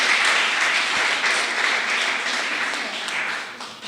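A church congregation at a Portuguese-language worship service breaks into sustained, steady applause, with many hands clapping in a full, even wash that continues for several seconds and eases only slightly toward the end.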